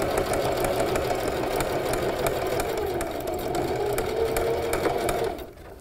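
A sewing machine stitches the hooked side of Velcro with a zigzag stitch, running steadily and close at a fast even hum before stopping abruptly at the end.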